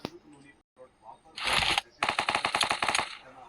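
Gunfire in a video game: a short automatic burst, then a longer rapid string of evenly spaced shots, fairly close and crisp, with players talking around it.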